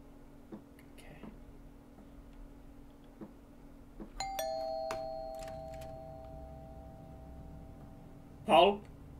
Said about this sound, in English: Ring that doorbell.